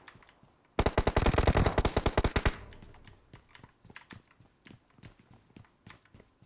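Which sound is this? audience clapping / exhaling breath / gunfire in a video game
gunfire in a video game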